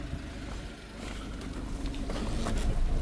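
A Suzuki dump truck's engine rumbles low and steady while backing out in four-wheel drive, growing slightly louder toward the end.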